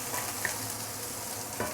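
Prawns fry in a wok with a steady, moderate sizzle and faint stirring scrapes, heard close without any talking.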